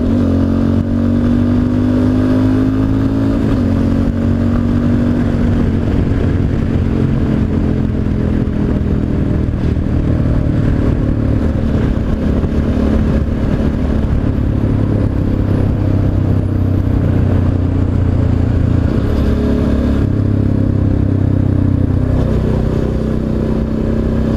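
Motorcycle engine heard from the rider's position while riding home on a road, a loud steady drone with shifts in revs and wind noise, no one talking.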